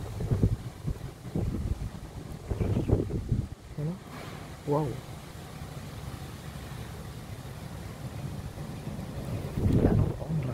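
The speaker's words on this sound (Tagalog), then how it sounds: "Malakas pa rin ang hangin at saka may ulan pa rin." Strong typhoon wind roars in a steady broadband rush with rain mixed in, while a person speaks briefly and exclaims nearby over the noise.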